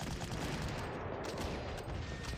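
Artillery fire in the wartime strategy game Panzer Corps, a dense rolling burst of blasts that stays steady and fairly quiet across the whole stretch, with no voices over it.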